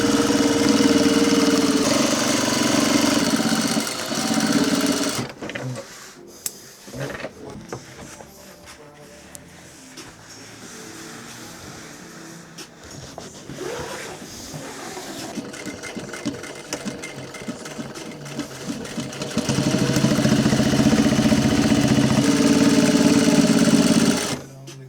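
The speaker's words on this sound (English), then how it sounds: "So now we've just done the top stitching on the 2 side pieces connecting to the center front." A sewing machine runs loud, steady top stitching on the side pieces of a workwear yard jacket. It rattles hard at the start, drops to quieter, broken passes in the middle, and surges loud again toward the end.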